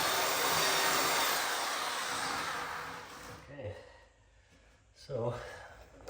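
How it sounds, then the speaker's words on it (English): A belt sander grinds loudly across a raised lump in a floor for about three seconds, then cuts out, leaving quiet room tone broken by brief breathing or voice sounds. "I'm gonna take that belt sander and see if I can smooth that out a bit"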